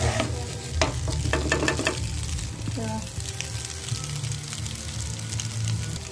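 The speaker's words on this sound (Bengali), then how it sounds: "এই হাক্কা নুডলস এতে দিয়ে দিলাম, দিয়ে এবার এটাকে নাড়বো, এটাকে নেড়ে নেব" Hakka noodles sizzle in a hot pan while being stirred, with spatula scrapes and clinks breaking through a steady frying hiss; close and moderately loud, the stirring strokes irregular at first before settling into continuous sizzling.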